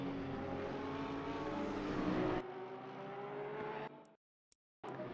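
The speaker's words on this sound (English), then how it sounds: "As the cars do their outlap here." Mixed GT3 and GT4 race cars on an outlap at the Nürburgring drone with a loud, steady engine note, the pitch shifting as one car passes, then cutting abruptly to silence with a brief click before the engine noise returns.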